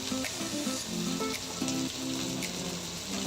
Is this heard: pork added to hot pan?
yes